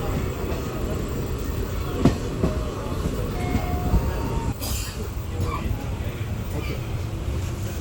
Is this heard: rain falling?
no